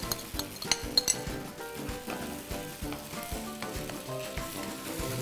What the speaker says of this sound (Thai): เราจะเจียวไข่อย่างนี้เลยนะครับคนให้ไข่มันเป็นริ้วนะครับ